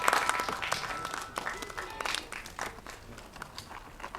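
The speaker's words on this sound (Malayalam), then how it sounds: "ഒരു ഗംഭീര കൈയടി ഫോർ അഭിരാമി." Applause for actress Abhirami at a Kerala press meet, a quiet, scattered patter of clapping from a small audience, thinning out over a few seconds with speech-like sounds mixed in.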